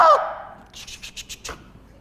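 A voice imitates a crow call, opening with a harsh drawn-out caw followed by a run of five or six short clipped pulses, loud and close.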